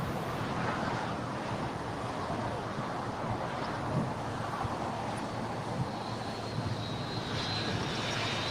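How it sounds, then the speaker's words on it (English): Delta Boeing 767-300ER airliner on short final for landing at LAX, a steady loud broadband jet roar holding throughout with a faint high whine rising near the end. "Delta Airlines Flight 326 coming in from JFK, New York. This is a Boeing 767-300ER."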